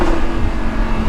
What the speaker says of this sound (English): Another one of my favorite parts about this car is the exhaust.